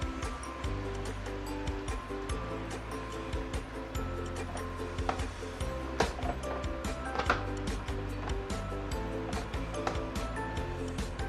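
Two beaten eggs poured onto a hot iron plate for hotplate tofu give a steady close sizzle and hiss that runs the whole time over a constant tonal background hum.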